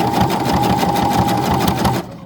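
A sewing machine stitches a rope bowl at a steady pace, its loud, close, rapid rhythmic whirring running continuously before stopping abruptly near the end.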